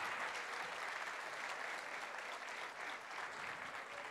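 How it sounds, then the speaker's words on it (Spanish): Dense, sustained applause from a crowd at a collective wedding ceremony, greeting a newlywed couple as they receive their marriage certificate, steady and fairly loud throughout. "un aplauso más fuerte para ellos"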